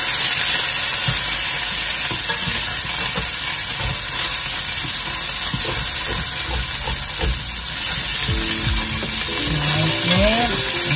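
Garlic and white onion frying in a pan, a loud continuous sizzle and hiss with scraping stirs and clinks near the end.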